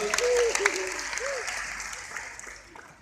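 A church congregation at a Christmas service claps briefly, the applause strongest at first and fading away, with a few voices calling out over it.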